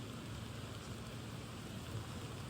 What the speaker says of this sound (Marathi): पाऊस एवढा जोराचा वाढला की आपण मोबाईल टाकला कव्हर मध्ये